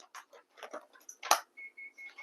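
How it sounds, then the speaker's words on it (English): An oven preheating to 350 degrees signals with a run of short, even electronic beeps, coming after a brief burst of kitchen clatter and rustling. "That's the sound of my oven preheated at 350."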